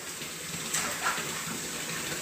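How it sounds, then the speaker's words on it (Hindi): Water splashing gently in a swimming pool while a child plays, a soft steady wash of water with a couple of faint brighter splashes, no talking. "प्रीशा स्विमिंग पूल के मजे ले रही है"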